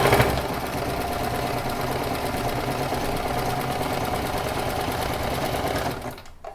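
A sewing machine runs steadily, stitching through felt on a bucket hat, a loud continuous mechanical whir that stops abruptly near the end.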